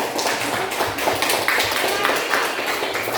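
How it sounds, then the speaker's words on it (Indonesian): A classroom gives a student a round of applause, steady lively clapping from a group of pupils throughout. "Tepuk tangan untuk Rizka."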